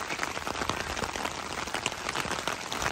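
Steady rain patters at a dispersed camping spot in the Ouachita National Forest, a dense, even hiss of drops striking surfaces all around, with no voices over it.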